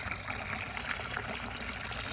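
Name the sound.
filling a garden olla with water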